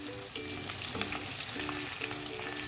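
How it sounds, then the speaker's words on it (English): Poppy seeds, cloves and pepper being stirred in a frying pan for a country chicken curry, giving a steady close sizzle with scraping and stirring scrapes throughout, no one speaking. "Now I am also going to add the poppy seeds, the cloves and the pepper."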